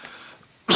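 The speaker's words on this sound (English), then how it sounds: "Sorry about coughing, I have a cold." A single sharp, loud cough bursts out at the very end after a near-silent stretch, close to the microphone.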